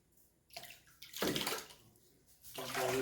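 Water sloshes and splashes in bursts as salt and baking soda are dumped into about four gallons of water for tanning a deer hide, near and close, in uneven waves with brief pauses between.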